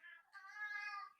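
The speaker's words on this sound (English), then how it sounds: "And your cat, is your cat hungry?" A cat gives a single drawn-out, rising meow. It is fairly faint and close, and no other sound can be heard.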